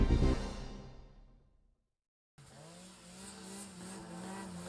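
Yamaha SR Viper MTX snowmobile with a 162 track in deep snow, a loud engine roar fading away into silence, then a revving engine returns at moderate distance with a droning tone.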